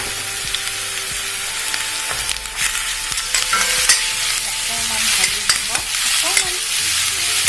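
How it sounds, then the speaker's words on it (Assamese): Ginger-garlic paste and masala fry in oil for a banana flower and chicken dish, a loud, continuous sizzle with repeated scraping and clicking from stirring that builds steadily. "মছলাখিনি এতিয়া কেঁচা ভাপটো নোহোৱা হৈ যাতে তেল এৰিবলৈ ল'ব, তেতিয়ালৈকে ভাজিব লাগিব।"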